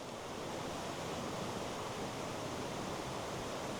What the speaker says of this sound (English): Just listen to the river behind me.